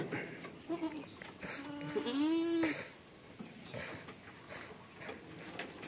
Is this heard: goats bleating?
yes